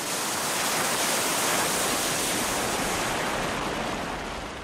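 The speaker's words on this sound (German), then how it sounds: "Magma lässt auch den kochend heißen Geysir Stockur tanzen." Strokkur, a boiling-hot geyser in Iceland, erupts as a loud, steady roar and rush of water and steam, a dense broadband wash that swells and fades slightly over a few seconds with no voices.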